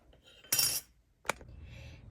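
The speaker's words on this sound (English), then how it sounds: "I'm going to hammer it." Hammer blows on a shrink plastic jewelry piece resting on a metal floor anvil in a garage carport, two sharp metallic strikes about 0.8 seconds apart, close and fairly loud, with a low ringing hum between them.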